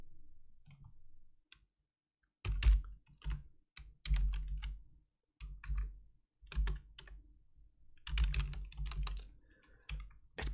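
Computer keyboard typing in bursts, rapid close clacking keystrokes separated by short pauses, with no talk.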